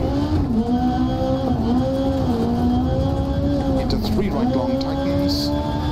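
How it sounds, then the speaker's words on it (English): A rally car engine in the video game Dirt Rally 2.0 drones steadily at high revs, pitch wavering as it shifts and eases, with occasional voices over the top. "This car sounds a lot better too."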